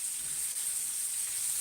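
Food sizzles steadily in an overcrowded small frying pan while being stirred, a constant close hiss with a bright high-pitched fizz and little variation, no voices.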